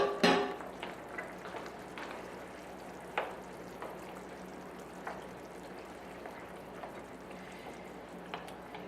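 Tomatoes drop into a pan of potatoes frying for Genovese-style Italian potatoes: a soft clatter at the start, then a quiet steady sizzle with occasional light scrapes and taps.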